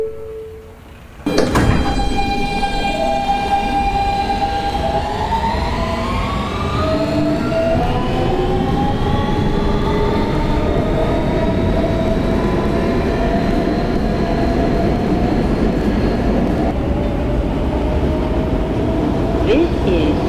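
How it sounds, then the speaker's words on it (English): A Kawasaki R160B-2 Siemens R local subway train rides toward Bay Ridge–95th Street, with a steady loud rumble of wheels and car noise and rising and falling motor whine throughout. "This is a Bay Ridge 95th Street bound R local train."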